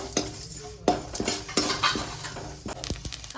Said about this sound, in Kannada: ಈ ನಾಲ್ಕು ಪದಾರ್ಥಗಳನ್ನು ಕೂಡ ಒಟ್ಟಾಗಿ ಹುರ್ಕೊಳ್ತಾ ಇದ್ದೀನಿ ಮೆಂತೆ ಮೆಣಸು ಏಲಕ್ಕಿ ಹಾಗೆ ಜೀರಿಗೆ